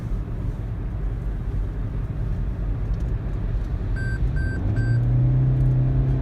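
A 2019 Toyota Prius AWD in power mode accelerates onto a highway on-ramp: a steady low cabin rumble of road and motor noise, with a few short electronic beeps and a rising tone as it speeds up near the end.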